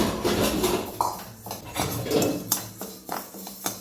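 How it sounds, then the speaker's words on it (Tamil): Black urad dal and rice dry-roasting in a metal pan rattle and clink under repeated stirring, with close, fairly loud scraping taps in an uneven rhythm and no voices. "இப்போ வந்து நம்ம இந்த உளுந்து எடுத்து வச்சதை வந்து போட்டு நல்லா வறுத்துக்க போகிறோம்"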